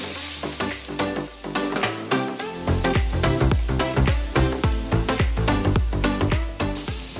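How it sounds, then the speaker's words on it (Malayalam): Raisins and curry leaves are sautéed in a pan for a rava vegetable upma breakfast dish. A hot sizzle runs under quick, rhythmic stirring strokes that repeat steadily and close up throughout. "കിസ്മിസ്, നന്നായിട്ട് വഴറ്റിയെടുക്കും."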